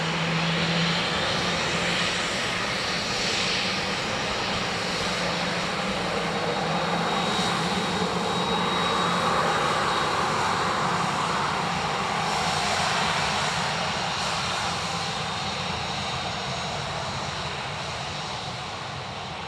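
A Ryanair jet airliner arriving at Dublin Airport, its steady engine roar swelling and then slowly fading over about twenty seconds, heard at a distance with no talking.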